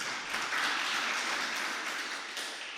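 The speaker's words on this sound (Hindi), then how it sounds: "ताली बजाओ ना।" An audience applauds at a spiritual lecture with a steady, dense patter of clapping that holds at an even level for a few seconds and does not build or fade.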